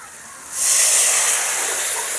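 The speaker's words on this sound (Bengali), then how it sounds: "মশলাগুলো দেওয়ার পরে সামান্য একটু জল দিয়ে দিব।" Water splashed into a pan of hot frying spices for a pea filling, setting off a sudden loud, hissing burst of steam that stays strong and steady, close by with no voices.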